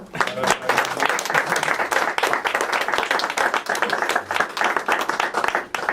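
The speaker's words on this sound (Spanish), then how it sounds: "Le pido un aplauso caluroso." Enthusiastic applause from an audience at a book presentation, a dense, continuous clatter of many hands clapping at once, loud and sustained.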